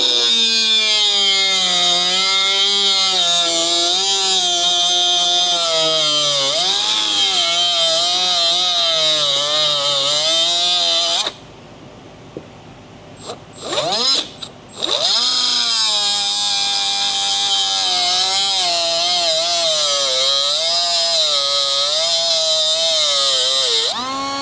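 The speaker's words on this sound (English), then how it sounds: "we're gonna grind this cage off, get rid of that, peel the thing away, and then we can pop the rollers out" Power tool grinding off a bearing cage during a differential re-bearing on a 6.0 Silverado 4x4, a loud continuous whine that rises and falls under load, cut off by a short pause in the middle before resuming.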